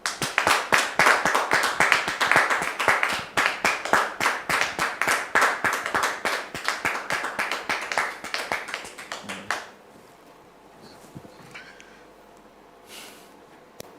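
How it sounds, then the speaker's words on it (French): A studio audience claps steadily and briskly to welcome a guest on a French talk show, then the applause stops abruptly, leaving near silence with a few faint sounds. "Merci de le recevoir sous vos applaudissements"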